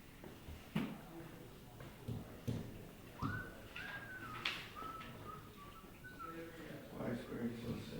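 A student whistles a short wavering tune in a classroom, faint and fairly distant, with background murmur and scattered knocks around it.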